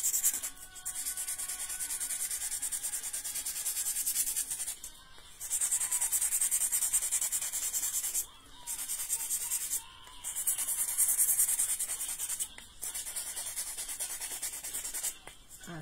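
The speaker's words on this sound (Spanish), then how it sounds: "Y ahora agarran su lija y ustedes mismas son a lijar." Rhythmic hand sanding of a thermoformable shoe toe-cap piece with sandpaper: long scratchy rubbing strokes repeat steadily, broken by brief pauses, close and fairly quiet with no speech.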